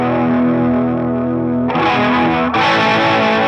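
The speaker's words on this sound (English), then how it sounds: "This is achieved with a chorus pedal." An electric guitar played through a chorus pedal rings out with a shimmering chorus effect, sustained chords that shift as new notes are struck, loud and close.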